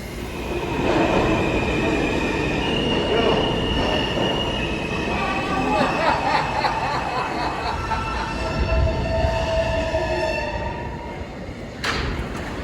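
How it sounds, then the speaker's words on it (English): A New York City subway train rumbles along with steady rolling noise, rising metallic wheel squeals and whining tones, loud and close throughout, with a sharp burst near the end. "This is a Brooklyn Southland local train."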